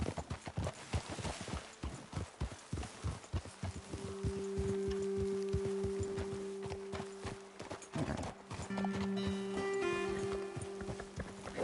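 Horses' hooves clip-clopping in the video game Red Dead Redemption 2, a steady walking rhythm of many close hoof strikes with a horse whinny and soft music-like tones midway.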